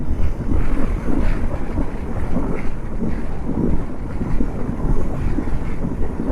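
A KTM Adventure 390 S motorcycle cruising steadily on cruise control, with a constant loud rush of wind buffeting the microphone over a low engine drone throughout.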